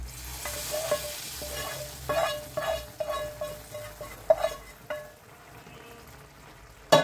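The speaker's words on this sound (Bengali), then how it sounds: "এখন এতে আমি যে ফোড়নের যে সমস্ত মশলাগুলো ভেজে রেখেছি সেটা আমি এর মধ্যে ঢেলে দিচ্ছি" Fried tempering spices are poured into a simmering mung bean curry, giving a steady sizzle and bubbling punctuated by several clinking utensil strikes against the pot, with a sharp clatter at the very end.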